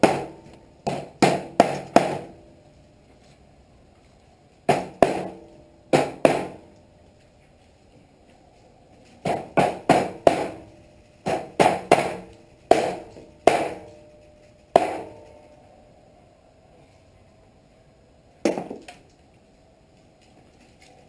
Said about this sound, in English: I just took my baby sledge and just basically beat the squareness of the carriage bolt